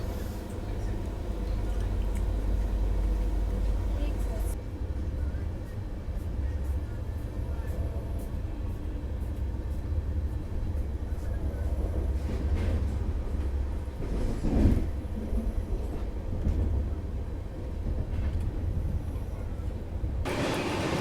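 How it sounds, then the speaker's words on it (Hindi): Bangalore Rajdhani Express pulling out of Narkhed Junction, heard from inside a first AC coach: a steady low rumble of rolling wagons with faint rail clatter, slightly louder at the start and a brief bump midway. "गाड़ी अपनी यहाँ पे नरखेड़ जंक्शन से निकल रही है।"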